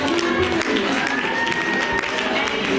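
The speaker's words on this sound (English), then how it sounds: "Y'all gonna clap." Crowd at a Mary Kay event in Fort Worth claps rhythmically along to a cheer, steady dense clapping with a voice talking over it.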